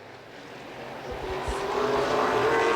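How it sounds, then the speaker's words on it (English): Late model race cars at Winchester Speedway drone past at a distance, the engine roar swelling gradually louder across the clip as the field approaches. "Spillers gets the advantage on the outside once again, but he's got Terry Fisher Jr. right on his back bumper."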